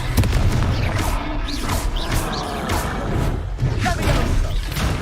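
Confringo spell blasts in the video game Hogwarts Legacy, loud booming explosions with crashing debris and rumbling impacts layered densely over the whole stretch, heavy low-end throughout.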